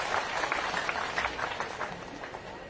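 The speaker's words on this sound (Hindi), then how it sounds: "दोनों हाथ ऊपर उठा के ताली बजा के स्वागत कीजिए, अभिनंदन कीजिए दीदी का" A crowd at a public gathering in Amayan, Bhind district, applauds to welcome Uma Bharti, with bright scattered clapping that thins out and fades toward the end.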